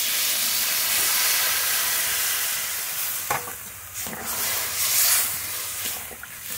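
Water poured into a hot pan of frying spice mixture with potatoes and chopped tomatoes, a loud steady sizzle and hiss that dips suddenly partway through, then bubbles and spits unevenly.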